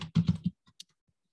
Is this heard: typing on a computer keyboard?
yes